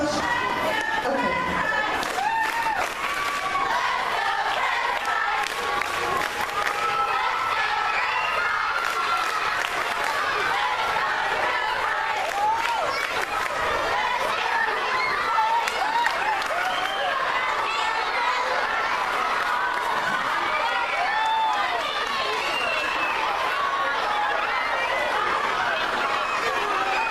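Children cheer, shout and chatter in a dense, continuous crowd roar as they run out of a school rally, loud and sustained throughout with overlapping excited voices.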